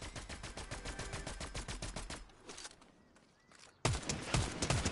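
Rapid bursts of video game gunfire from a gun with heavy recoil, loud and close, pausing briefly into quieter ambience before another sharp volley erupts.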